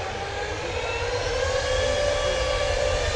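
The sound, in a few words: easyJet Airbus A320neo jet airliner at Manchester Airport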